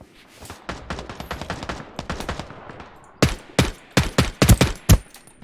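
Gunfire in a Ring of Elysium firefight: a long series of sharp, fairly close shots in irregular rhythm, with some quicker clusters and louder reports toward the end, with no talk over it.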